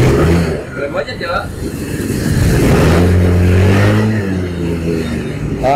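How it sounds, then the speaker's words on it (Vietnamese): A Thai-built Honda Dream motorbike engine idles close by and then revs up and settles, its steady mechanical drone heard under continuous talking. "máy nổ ok hết anh em"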